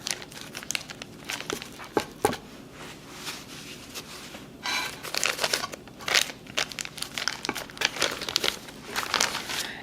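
Plastic wrap crinkles and crackles in irregular bursts while apple empanadas are pressed and sealed, with louder rustling clusters in the second half, close and fairly quiet.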